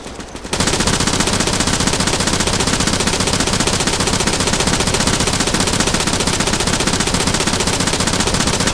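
Sustained automatic fire from a Zafir machine gun in the military shooter Arma 3, a loud, unbroken rapid stream of shots running nearly the whole stretch after a brief quieter opening.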